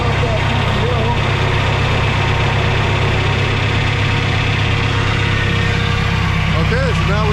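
A combine harvester's engine idles with its PTO switched off during an Iowa corn harvest, a loud, steady, close rumbling drone that holds for several seconds with faint voices underneath.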